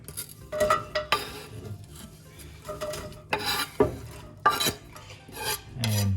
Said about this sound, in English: Now we're going to just transfer in the pot to start saute the onion.